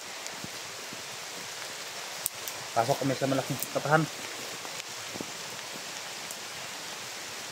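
Steady rain hisses across the whole clip, with someone speaking briefly in the middle over the downpour.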